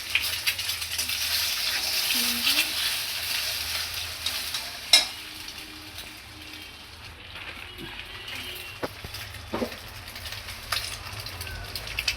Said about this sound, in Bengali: এইবার ডিম দুটো ভেজে নেব তেলটা গরম হয়ে গেছে